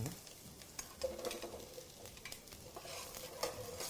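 Onions hit a pan of sizzling garlic and ginger. A soft frying hiss mixes with stirring scrapes and light utensil clicks, fairly quiet and close.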